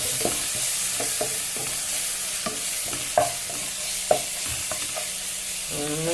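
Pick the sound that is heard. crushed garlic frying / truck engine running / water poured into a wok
crushed garlic frying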